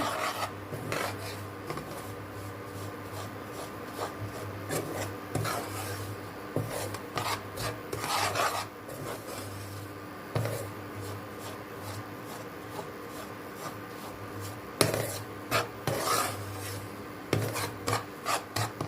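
Semolina roasting in melted butter for rava kesari, stirred in a pan with steady scraping and rasping strokes, irregular rhythm with some louder scrapes, close and clear, no talking.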